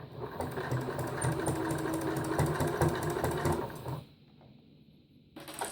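A sewing machine topstitches a cloth menstrual pad at a slow, even pace. The motor hums and the needle chatters steadily for about four seconds, then goes quiet briefly before starting again.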